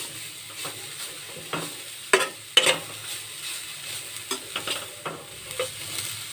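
Grated carrot frying in ghee in a kadai for carrot burfi, a low soft sizzle beneath intermittent scraping strokes of a spoon against the pan, close and moderately quiet, with no voices.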